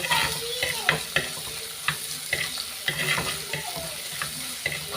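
Crushed small red shallots fry in hot oil for a fish curry, a bright close sizzle punctuated by frequent sharp clinks and scrapes of a spoon stirring against the pan, with no speech.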